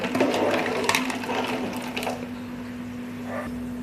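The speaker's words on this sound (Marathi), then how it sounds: "आता आपण जो स्टॉक काढला होता तो टाकून घ्यायचा आहे" Crab stock poured into a pan of spiced masala for crab curry, a loud splashing gush and sizzle in the first two seconds that fades to a quieter bubbling, with a steady electrical hum underneath.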